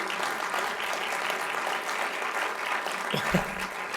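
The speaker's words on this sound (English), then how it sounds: "Give Camille a clap" An audience at a startup pitch event applauds, a steady, fairly loud patter of many hands clapping that lasts throughout, with a brief thump near the end.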